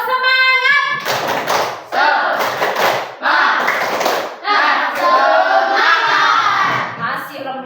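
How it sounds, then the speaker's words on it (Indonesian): Schoolchildren in a classroom perform a rhythmic clapping chant together, loud, sharp claps in repeated patterns alternating with the group's voices calling out in unison. "Kemudian tepuk semangat masih hafal? Tepuk semangat."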